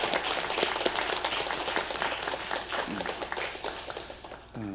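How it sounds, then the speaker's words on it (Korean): A church congregation applauds during a Sunday worship service, with broad, sustained clapping filling the room before tapering off near the end. "축하의 박수 한번 드렸으면 좋겠습니다"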